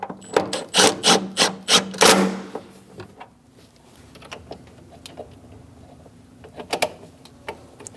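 A wrench snugs down the battery lock-down bolt on a 2003-2025 Chevrolet Express 2500 with a quick run of sharp ratcheting clicks, followed by faint scattered taps and handling noises.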